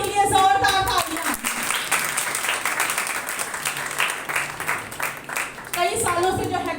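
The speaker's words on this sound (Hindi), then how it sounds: "उसके कलाम के लिए जोरदार तालियां।" Loud applause from a church congregation during a Sunday Hindi sermon, a dense sustained clapping that swells for about five seconds between stretches of the preacher's voice.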